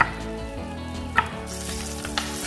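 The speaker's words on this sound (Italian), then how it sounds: "versiamo circa un cucchiaio di olio extravergine di oliva e facciamo rosolare la carne" Pork loin browning in extra virgin olive oil in a pan, a steady close sizzle and frying crackle with a couple of brief utensil clinks, no talking.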